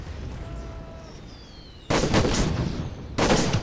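Booming howitzer blasts and gunfire in the video game Toy Soldiers, two loud broadband bursts cutting over a steady rumbling battlefield bed with faint whistling tones.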